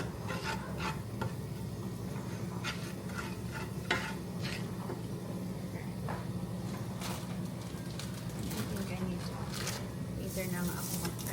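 Rice is stirred in a hot pan with melted salt, giving a continuous sizzle with scraping and shuffling strokes throughout. A voice talks over the cooking.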